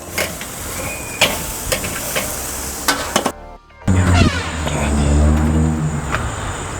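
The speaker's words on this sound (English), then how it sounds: "And we're gonna just keep flipping the steaks." Steaks sizzle steadily in a hot pan while being flipped repeatedly to render the fat, with a sharp hiss rising after each turn and a few brief clicks and knocks mixed in.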